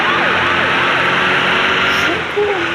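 Police car siren wailing in a car simulator video game, loud and continuous with sweeping up-and-down tones over steady engine and traffic noise, with talk mixed in underneath.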